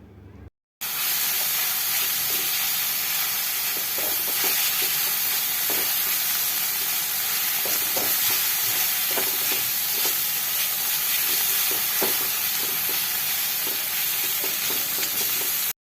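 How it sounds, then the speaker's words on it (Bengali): Spice paste with Kashmiri red chilli powder fries in a pan as it is stirred, giving a constant loud sizzling hiss broken by repeated spoon scrapes and taps, close up, with no talking. "আর এখন আমি মশলাটাকে ভালো করে মিশিয়ে নেবো"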